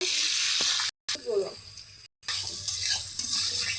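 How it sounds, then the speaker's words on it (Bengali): Potato pieces frying in hot oil in a home kitchen, a steady close sizzle with two brief dropouts and some stirring clatter. "তেল গরম হয়ে গেছে, আলু দিয়ে দিলাম"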